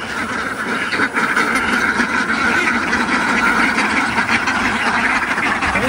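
A large flock of ducks quacks continuously in a dense, loud chorus, close by as they gather at a pond for feeding, with no pauses and no talking.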